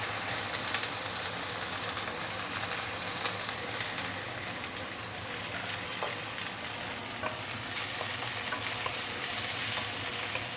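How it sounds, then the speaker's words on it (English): Mushrooms sauté in a hot pan with browned garlic and ginger, giving a steady, loud broadband sizzle with faint crackles throughout, no voices over it. "we can actually put in the mushroom"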